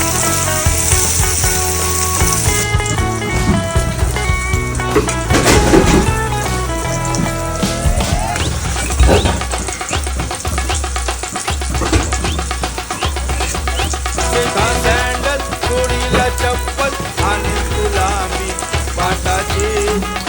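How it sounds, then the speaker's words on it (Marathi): Surmai kingfish fries in a pan after being flipped, a loud continuous sizzle and spatter with occasional clinks and splashes, heard over background music. "आता आपण याला पलटून घेऊया, म्हणजे ते दोन्ही साईड प्रॉपर फ्राय होतील."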